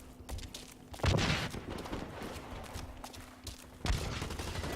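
Shots ring out in the Blacklight Retribution first-person shooter game, a few sharp, punchy bursts spaced by a couple of seconds over a low in-game background hum, with no talk.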